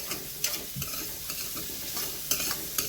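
A spoon stirs turmeric into onions frying in a pan for wheat noodle upma, giving a steady close sizzle broken by several sharp scraping and clinking strokes, with no talk.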